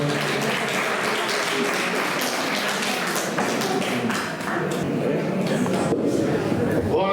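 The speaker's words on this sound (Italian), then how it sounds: "Un applauso a Roberto." An audience at an evening public meeting gives a dense, sustained round of applause for Roberto Nieto, with loud, continuous overlapping claps throughout and a slight dip midway.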